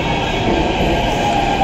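A Delhi Metro train pulls in at Uttam Nagar West station with a steady, loud rail rumble and clatter from the carriages, heard up close with no voices over it.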